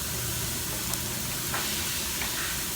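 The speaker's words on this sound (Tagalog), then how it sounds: "Ilalagay ko na po yung halong fats at laman ng ating karne ng baka." Beef fat and meat sizzle loudly in a pan with browned onion and garlic, a continuous close hiss of frying with a few brief sharper spits.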